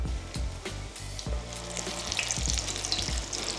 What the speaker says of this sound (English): you just want to gently work your croquette after it's been frying for a while